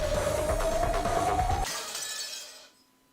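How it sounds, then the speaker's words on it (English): Glass breaks in the video game Umineko: When They Cry, a loud, close shattering crash with a rising tone underneath, followed by a bright tinkling tail of falling shards that fades into silence. "They didn't get me this time with the broken glass."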